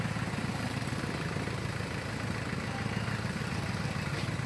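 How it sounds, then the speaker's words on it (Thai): A Kubota L4508 tractor engine runs steadily on a farm, a continuous low mechanical drone with a constant rumble and no pauses, moderately loud throughout. "มีรถไถหนึ่งคันเนี่ยทำงานเหมือนกับเป็นรถจูงลากได้ด้วยนะคะ"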